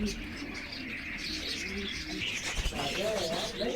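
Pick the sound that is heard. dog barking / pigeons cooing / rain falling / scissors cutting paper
pigeons cooing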